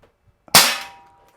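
A Gamo PR-776 CO2 .177 pellet revolver fires one sharp, loud shot up close, with a short decaying ring after it and no voices.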